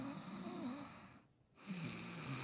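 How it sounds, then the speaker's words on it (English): A person snores in a game, with slow, raspy, wavering breaths over a constant hiss, a short near-silent gap, then the rough drone picking up again. "You snore pretty loud."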